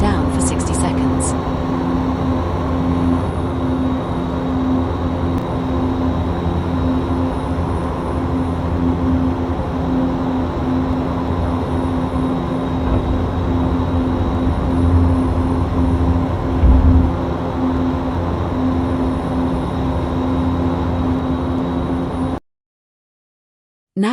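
A King Air C-90B twin turboprop in the X-Plane flight simulator gives a loud, steady engine drone with a constant tonal hum, running unbroken for over twenty seconds before cutting to silence.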